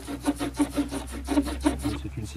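A small folding saw blade on a Victorinox or Wenger pocket knife rasps back and forth through a dead branch outdoors, a quick, even series of about eight close, scratchy strokes.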